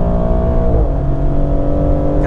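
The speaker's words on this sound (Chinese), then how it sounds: "看准了出弯点的时候，油门到底" A 550-horsepower Maserati on a race track accelerates hard at full throttle out of a corner. The engine note rises loud and close, with a brief shift partway through and a climbing revving tone.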